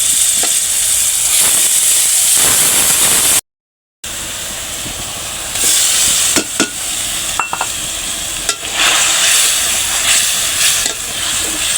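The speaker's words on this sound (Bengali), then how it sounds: "ডিম দুটো আমি ভেজে নিছিলাম, আর ডিম দুটো ভেজে তারপর মশলাটা দিয়ে দিব" Two eggs fry in a hot pan, a loud, steady sizzle with stirring scrapes, and after a brief gap spice paste hits the oil, bringing bursts of crackling hiss.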